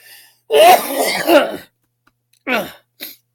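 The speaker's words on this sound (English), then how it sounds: "Sorry for the cough." A close, raspy cough and throat clearing, followed by two shorter coughs after a brief pause.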